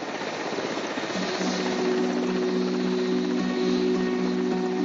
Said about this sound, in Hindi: हेलीकॉप्टर की गड़गड़ाहट